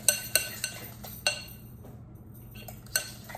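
A spoon stirs deviled egg filling with salt and black pepper, making a handful of sharp, close metallic clinks against the bowl in an uneven rhythm, separated by quiet scraping pauses.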